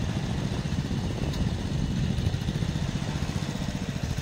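A seven HP power tiller engine reverses and turns in a farm field, its low, steady mid-range chug running continuously at a fairly even level with no voices.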